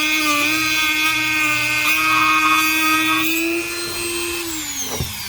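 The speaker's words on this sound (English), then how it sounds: "you could use your cutting wheel to just kind of flatten it out a little bit" A Dremel-type rotary tool with a cutting wheel grinds down leftover plastic during a car climate control swap, a loud, close, high whine that holds steady, dips slightly in pitch near the end, then winds down.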